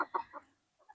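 Backyard chickens give a few quick, soft clucks close by, three short notes in a row followed by a brief pause and one more faint cluck.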